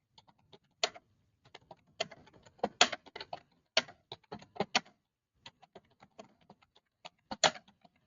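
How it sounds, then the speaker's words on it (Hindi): Computer keyboard typing during a typing lesson: irregular, crisp key clicks in quick runs and brief pauses, close and clear, with no voices. "मेरे हाथ जो है कीबोर्ड पे किस तरह चल रहे हैं"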